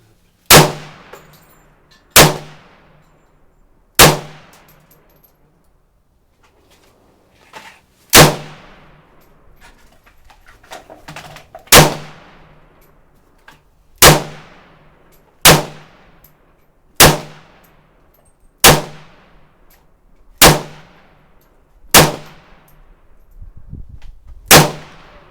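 A Sig 556R rifle fires about a dozen loud single shots outdoors, each a sharp crack with a ringing decay, spaced one to four seconds apart with a longer pause midway, and faint movement noises between them.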